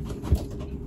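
Freshly bathed pigeons give a short, low coo at close range, a soft burst against a quiet background.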